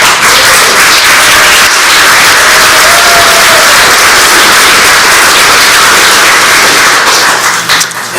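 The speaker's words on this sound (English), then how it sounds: "But Cindy, will you please stand up so we can give you a round of applause?" Dense, sustained applause fills a hall at Elgin's 33rd Annual Mayor's Awards for Preservation, loud and steady for about eight seconds, tapering slightly near the end with no voices over it.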